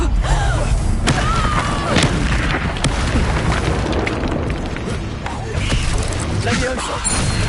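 Loud booming blasts from a Confringo fire spell in a video game burst over a dense, clattering battle mix, with a voice shouting over the chaos.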